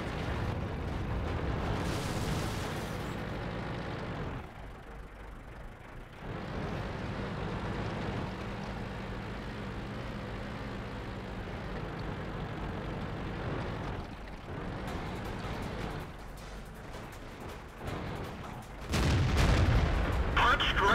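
Tank cannon fire in the World of Tanks video game: heavy booming shots over a constant rumbling battle din, with a loud blast near the end.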